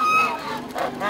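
Geese honking in the snow as they crowd around visitors, a quick burst of loud, close, overlapping nasal honks.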